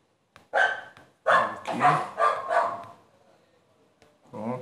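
Dog barking in the video game Kingland: several sharp, loud barks in a quick cluster, then a pause and another bark close up.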